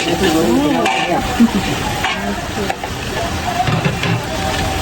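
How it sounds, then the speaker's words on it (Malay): Mushroom fried rice sizzles and is stirred in a wok at a long-running street stall, a steady loud frying hiss with metal scraping accents, while voices talk nearby. "Nasi goreng cendawan lagi."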